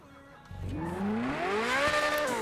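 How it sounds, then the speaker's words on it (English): Revving exhaust of a luxury car in GTA 5, a loud engine note rising steadily in pitch and holding high, building over a couple of seconds, close and with no talk over it. "That's a nice sound from the exhaust."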